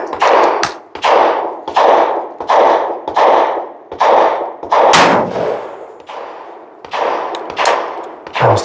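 A Charles Daly 101 folding single-shot shotgun fitted with a Shooters Box caliber adapter fires nine loud, sharp reports at a steady outdoor pace, each crack followed by a short decaying echo.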